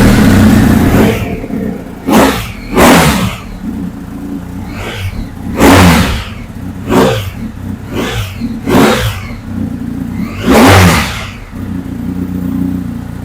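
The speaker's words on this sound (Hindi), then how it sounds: "इतना पावरफुल बाइक का एग्जॉस्ट नोट तो सुनना बनता है, तो आइए एग्जॉस्ट की साउंड एक बार सुन लेते हैं।" BMW R1250 GS motorcycle, a 2020 limited edition, revved repeatedly through its exhaust. The engine blips in sharp, loud bursts over a steady idle, close by and with no talk.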